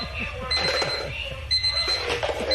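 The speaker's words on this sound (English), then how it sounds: "These alarm clocks are set all over her room" Alarm clocks hidden around a dark bedroom ring in repeated electronic beeps, loud and close, while people talk over them.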